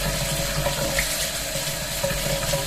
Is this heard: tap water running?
yes